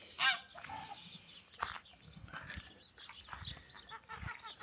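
A goose honks loudly up close in one sharp burst near the start, followed by quieter scattered calls and soft rustling outdoors under an open sky.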